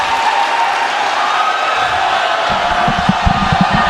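A large basketball arena crowd roars steadily during overtime of an ASEAN Basketball League game between the Kuala Lumpur Dragons and the Singapore Slingers, and the noise swells louder toward the end.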